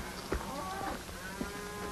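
Cattle lowing at a ranch in a 1935 Western film, with a few deep moos rising over a steady outdoor background and scattered livestock noise.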